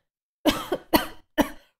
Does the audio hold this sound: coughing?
yes